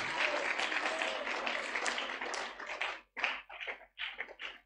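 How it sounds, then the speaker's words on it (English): An audience at a church jubilation service claps in a sustained, loud wave of applause that breaks into a few scattered, uneven claps before fading out. "So if you want to clap, clap now."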